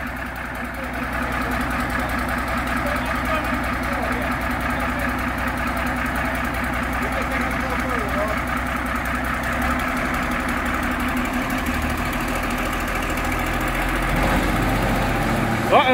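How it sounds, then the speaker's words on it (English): A small Plymouth locomotive engine rumbles at a steady idle-like drone while pushing a narrow gauge steam locomotive, continuous and moderately loud, with a louder clunk near the end. "we got a little Plymouth locomotive here they're pushing it with"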